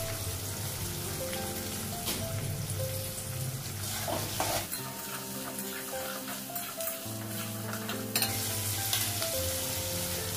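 Onion frying in a pan with salt added, a steady crackling sizzle with scraping stirs and clinks of a spoon against the pan, close and continuous throughout.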